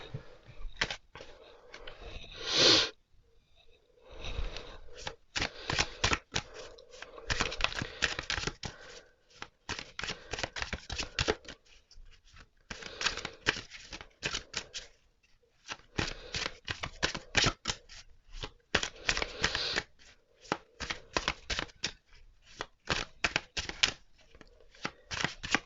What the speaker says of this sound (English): let's get to shuffling